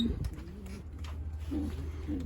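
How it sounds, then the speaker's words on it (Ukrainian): A speckled racing pigeon coos softly in a few short, low calls after returning to its loft, close by against quiet background noise. "Прилетів той голубок крапчатий."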